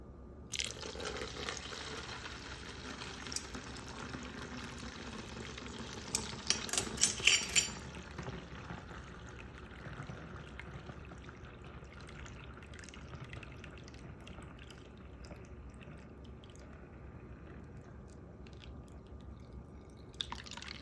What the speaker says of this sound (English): And then I'm going to fill it up with water.